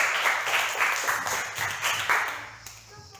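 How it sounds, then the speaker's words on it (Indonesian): Classmates in an Indonesian school classroom clap for a student group about to present, a brief ragged round of hand claps that thins out toward the end. "Tepuk tangan dulu untuk kelompok 2"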